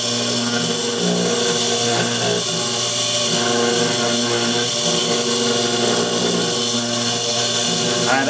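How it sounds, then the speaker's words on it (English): A CNC machine carves a letter G into guitar wood, giving a loud, steady mechanical whine with high tonal layers over a constant low hum, running without pause and with no talk. "currently we see the machine carving the G for Googie"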